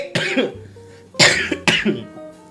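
Three sharp, close coughs in a row, the last two harsher and closer together, with a short pause after the first.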